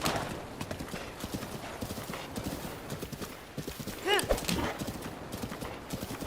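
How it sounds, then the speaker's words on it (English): Horse hooves clip-clop in a steady trot while riding in The Legend of Zelda: Breath of the Wild, with a short whinny partway through and game ambience underneath. "this is probably the first time I have ever actually ridden this horse"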